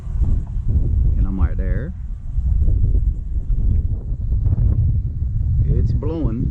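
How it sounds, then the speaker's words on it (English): Steady low wind rumbles against the microphone outdoors throughout while a person talks briefly over it. "It's windy."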